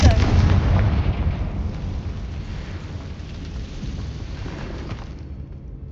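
A Confringo fire spell in Hogwarts Legacy explodes with a heavy rumbling boom, then a long crackling, thundery roll that slowly fades over several seconds.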